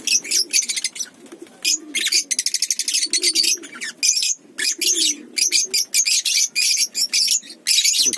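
Pigeons in an aviary make soft low coos beneath dense bursts of loud, rapid chirping from many birds nearby, rising and pausing in uneven clusters; nobody talks.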